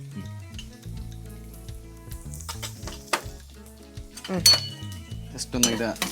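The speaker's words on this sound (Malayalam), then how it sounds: "വെളുത്തുള്ളി നമ്മൾ ചേർക്കുവാണ് എണ്ണയിലേക്ക്" Garlic added to hot oil with ginger in a kitchen pan, a bright continuous sizzle with clinks of a metal utensil against the pan, growing louder toward the end; a voice talks in between.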